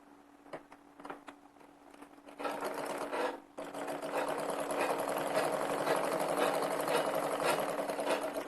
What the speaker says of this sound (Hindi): अब ये दोनों को ऐसे राउंड में सिलाई लगा लेते हैं एक बार फिनिशिंग के लिए।